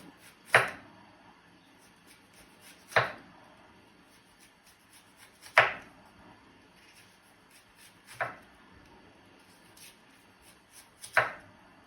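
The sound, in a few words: slicing red onion into thin rings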